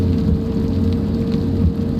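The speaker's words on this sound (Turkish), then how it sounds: "Yağmur sesiyle güzel uyudun." Steady rain falling in the mobile game Bus Simulator Ultimate during a highway bus trip, a constant loud hiss with a low rumbling drone underneath throughout.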